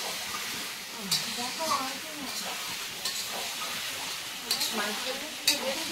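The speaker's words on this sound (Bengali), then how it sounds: "বেশ নেড়ে চেড়ে কষিয়ে দিচ্ছি" Spices stirred and frying in a pan for chicken biryani, a soft continuous sizzle with scraping stir strokes and a few sharp clinks of the spoon, while someone talks over the cooking.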